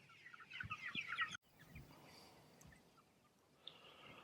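Chickens clucking in mobile farm tractors on a chicken farm, a busy cluster of close clucks followed by a sharp clunk and quieter scattered calls over low background noise.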